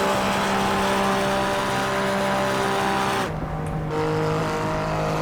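An Alfa Romeo Giulia Quadrifoglio in the Assetto Corsa racing game holds a loud, steady high-rev engine drone with tire noise, briefly dipping at a gear change before the revs hold again.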